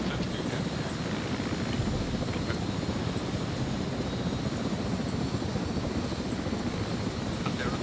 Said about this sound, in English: Health, there's a heli spinning up close to you.